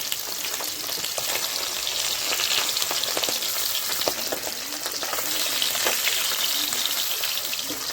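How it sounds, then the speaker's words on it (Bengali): Oil sizzles and crackles steadily as rohu fish fries in a pan, with a continuous hiss and scattered pops close by. "মাছ ভাজা হয়ে গেল, এখন আমি নামিয়ে নিচ্ছি"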